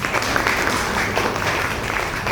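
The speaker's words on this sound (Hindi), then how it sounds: "एक बार मैं चाहूंगा दोनों सीनियर्स के लिए जोरदार तालियां।" Audience applause for two senior guests at a shop opening in Neb Sarai, South Delhi, a dense, steady roar of many hands clapping throughout, loud and close with no voices.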